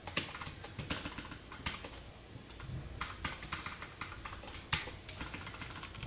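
Java code typed on a computer keyboard, with quick clustered key clicks and occasional louder strokes close to the mic, continuous and without talk.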